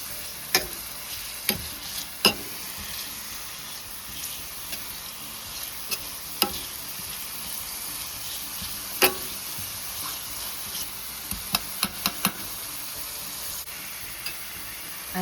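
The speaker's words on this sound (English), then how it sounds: "I'm going to saute this a bit." Onions sautéing in oil with onion powder, giving a steady close sizzle throughout with occasional sharp spoon clicks against the pan as it is stirred.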